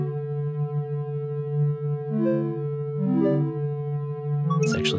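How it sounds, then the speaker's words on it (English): A Mr. Wavey synth module modulates a Clouds voice with a fast LFO, producing a steady tone that wobbles rapidly in pitch and swoops up and down in glides, ending in a burst of grainy noise. "we could hear we have a pretty fast LFO going"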